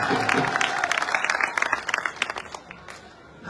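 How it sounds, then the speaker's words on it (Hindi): Crowd at a BJP political rally in Sadulshahar, Rajasthan breaks into loud sustained applause and clapping, dense and steady before tapering off near the end. "जोर से इनकी ताली बजाते हैं।"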